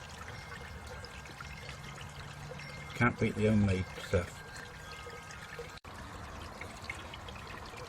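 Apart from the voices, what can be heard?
filtered water flowing back into a pond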